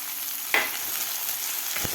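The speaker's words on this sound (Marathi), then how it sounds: "टोमॅटोसुद्धा आपल्याला व्यवस्थित एक ते दोन मिनिट आपल्याला व्यवस्थित परतून घ्यायचं आहे" Sliced onion and chopped tomato sautéing in a pan for a Maharashtrian masoor dal amti: a steady, soft sizzle with a brief scrape of stirring near the start and another light knock near the end.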